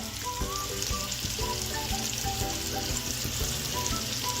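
Onions, ginger and garlic fry in a pan for an Indian dal, producing a dense, even sizzle and crackle with soft stirring taps throughout.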